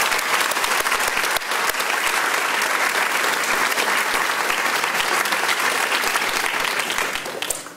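A large audience at a Duke Global Health undergraduate commencement breaks into loud, sustained applause for Dr. Boyd, dense clapping that holds steady throughout before tapering at the very end.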